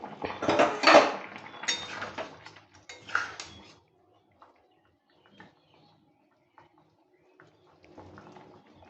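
A metal pot lid clatters onto a pot of Bengali fish curry on the stove, a few sharp clinks and scrapes close by, then near silence with faint kitchen ticks.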